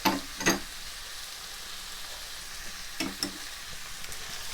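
Salt, paprika and chili powder cooking into rice for Tex-Mex rice in a pan, heard as a quiet steady sizzle with a few sharp stirring clinks near the start and middle.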